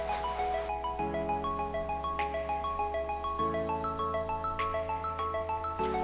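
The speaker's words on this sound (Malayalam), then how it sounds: "ഇനി നമുക്ക് ഈ സ്മാർട്ട് ഫോൺ ഒന്ന് ബൂട്ട് ചെയ്ത് നോക്കാം" A Redmi 9 Power smartphone boots up with a clear electronic startup melody of bright, evenly spaced notes over sustained low tones, two chiming accents and no other sound.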